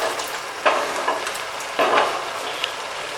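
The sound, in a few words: mutton liver and spinach frying in a pan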